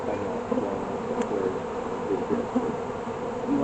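Honey bees buzz steadily around a beehive box, a continuous close, moderate drone with no talking.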